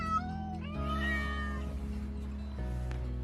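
Cats at a cat cafe on Long Island, with several overlapping meows that rise and fall close by over a steady low hum of background music or room noise.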